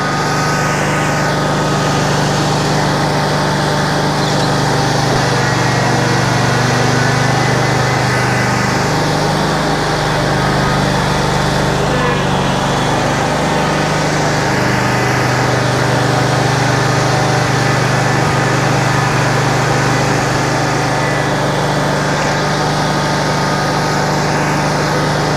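A lawn mower engine runs steadily and loudly close by, a constant droning hum with slight rises and dips in pitch, no talking over it.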